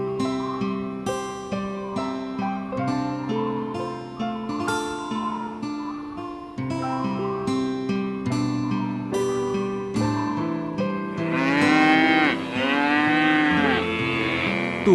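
Cattle mooing in a desert setting, with long, drawn-out lowing calls sounding over a continuous melodic music bed, growing louder and more prominent toward the end.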